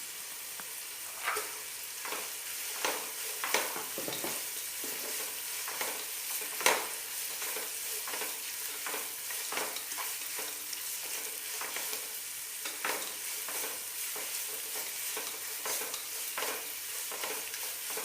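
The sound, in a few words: carrots and green peas sautéing for ghee rice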